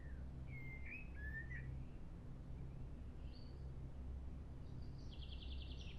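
Evening birdsong in a quiet wood, with a few scattered whistled calls and chirps, including a short rapid trill near the end, set against a faint low background hum.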